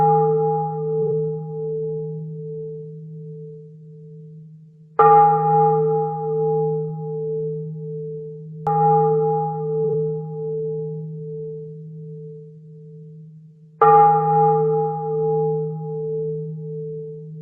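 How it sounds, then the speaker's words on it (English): Church bells are played back from a recording. Four separate bell strikes ring out a few seconds apart, each one sounding clearly and then humming down into a long, steady tone. "in English it's the bells ringing at the church"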